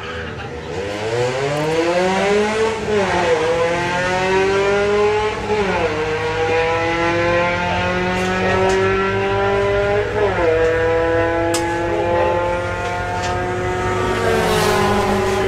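VW Scirocco and Audi A3 drag cars at Bug Jam launch and tear down the strip, the engines revving hard through several rising sweeps with sharp gear changes, loud and close, with no talk.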